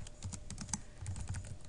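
A search query typed on a computer keyboard on a library website, a quick, even patter of close key clicks over a short stretch, with no one speaking.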